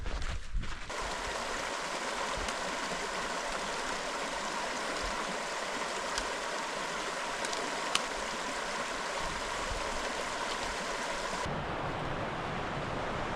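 Iron Creek runs beside a forest hiking trail, a steady, close rush of flowing water that continues unbroken and fairly loud throughout.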